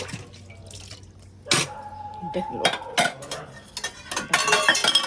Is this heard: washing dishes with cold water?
yes